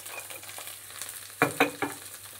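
Okra frying in a pan gives a soft, low sizzle, broken by three sharper scraping stirs near the end, with no talking.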